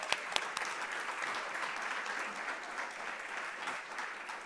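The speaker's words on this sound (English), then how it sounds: "Let's give ourselves a big round of applause." Audience applause filling a packed room at a national strategy event on hunger and nutrition, a sustained wash of clapping with a few sharp nearby claps at the start.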